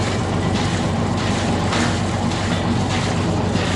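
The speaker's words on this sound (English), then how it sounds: "it was time to fire up the engine and give it a try." A sailboat's inboard engine running after a new hose was fitted, moored in Richardson Bay, a steady loud low rumbling drone with no talk.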